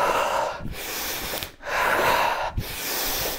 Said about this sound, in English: my breathing now is quite going strong